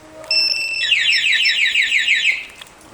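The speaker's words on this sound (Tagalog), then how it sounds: "Nag-a-alarm din." A Honda Click V3 scooter's alarm sounds a loud warbling electronic tone that sweeps up and down for about two seconds, close to the listener, with no voices.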